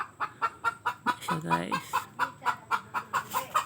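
Chickens cluck in a steady rhythmic series close by, with a brief voice speaking partway through.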